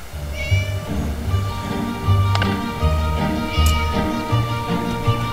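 Repeated meows from a cat in the Scary Teacher 3D video game, several short tonal cries spread across the clip over a steady background of game music and ambience, with no talking.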